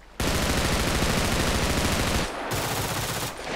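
Rapid automatic gunfire crackles close by in a Brazilian favela complex, sustained loud bursts with two brief dips between volleys and no talking.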